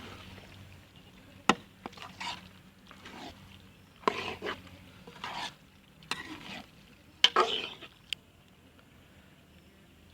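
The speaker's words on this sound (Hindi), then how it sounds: "अब हम इसको अच्छे तरीके से इसके अंदर मिक्स करेंगे।" Boiled turnips being stirred into frying chicken in a pan, a series of scraping spoon strokes and clatters against the pan over a soft sizzle, spaced irregularly and close.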